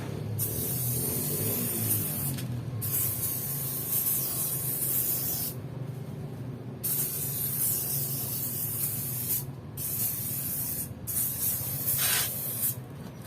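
Koby sticker remover sprayed onto a sticker in repeated pressurized hissing bursts of varying length, close to the microphone, with short pauses between sprays and no voices.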